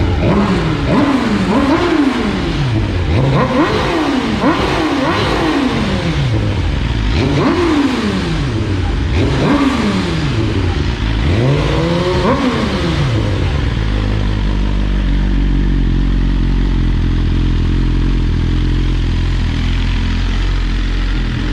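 A 2024 BMW S1000RR Gen 5 superbike fitted with an Akrapovic decat exhaust revs hard in a string of sharp rising and falling blips, loud and close, then settles into a steady, rumbling idle.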